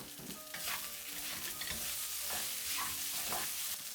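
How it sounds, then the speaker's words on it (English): Leftover dumpling dough stir-frying over medium heat with dark soy sauce and a dash of sesame oil, a close hissing sizzle broken by quick scraping strokes of a spatula across the pan. "Briefly stir."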